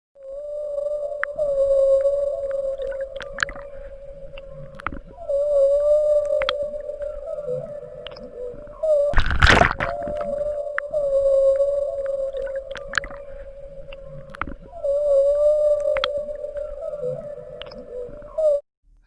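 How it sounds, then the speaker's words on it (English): Humpback whale song recorded underwater: long moaning, wavering calls in repeated phrases, with a sharp loud burst near the middle and no other voices. "Number 4. Humpback whale."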